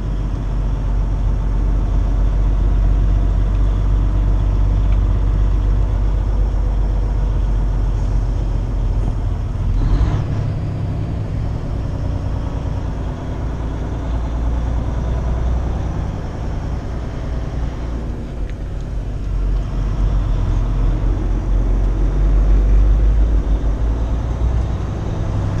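Trucks idle at night at a truck stop, a steady low engine rumble that drones continuously with little change, close and fairly loud throughout.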